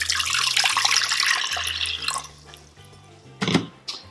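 About a cup of water pours into the bottom of an Instant Pot, a close splashing gush that tapers off after two seconds, followed by a few sharp drips and clinks.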